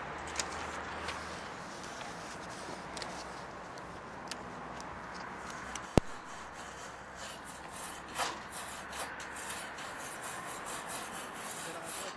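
A brush scrubs the back of a Fogger XL 150/180 thermal fogger near the ignition coil, quiet repeated rubbing and scraping strokes up close, with a single sharp tick in the middle and no voices.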